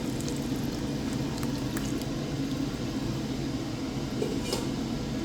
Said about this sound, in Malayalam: ഇനി നമുക്ക് 2 പാൽ ഒഴിച്ചു കൊടുക്കാം.